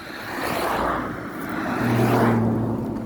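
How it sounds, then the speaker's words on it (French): A light blue Porsche with a rear wing passes by on the road, a broad whooshing engine and tire rush swelling and fading, with a brief tonal whine near the end. "Oh, il y avait une Porsche,"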